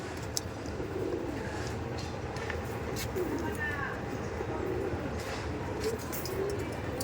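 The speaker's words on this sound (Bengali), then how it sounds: "অনেক পায়রা আছে" Many Pakistani Teddy pigeons cooing together in a loft, a steady low murmur of overlapping coos throughout, with people talking nearby.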